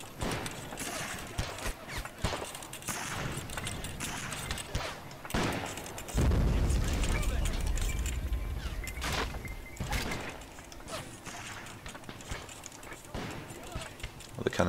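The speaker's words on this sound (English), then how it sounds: "Well, the cannons are still in action." Cannon fire in a Born in the Fire American Civil War mod battle, with repeated sharp booming blasts scattered irregularly over a busy background of distant battlefield noise, one heavy rumbling volley standing out midway.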